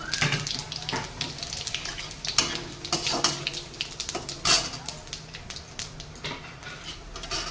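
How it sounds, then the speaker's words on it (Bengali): Cumin, cardamom, bay leaf and dry chilli tempering in hot oil give a faint, steady crackle and spatter with a few sharper pops, while the pan clatters lightly now and then. "আমার তেল গরম হয়ে গেছে, এবার আমি জিরেটা ফোড়ন দেবো"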